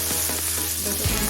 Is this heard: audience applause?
no